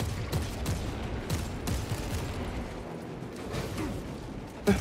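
Rapid gunfire from a heavy weapon in the video game Space Marine 2, Warhammer 40,000, with dense overlapping bursts and booming impacts sustained throughout amid loud battle noise.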